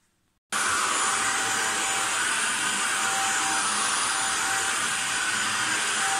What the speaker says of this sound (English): I hate hoovering.